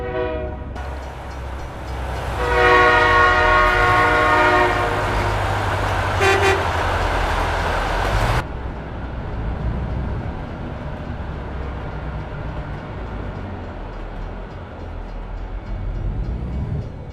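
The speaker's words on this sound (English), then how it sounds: "Well, catching the train." Loud horn blasts from a train in American Truck Simulator, with steady tonal notes for several seconds, then a low rumbling of the passing train continuing alone under engine noise.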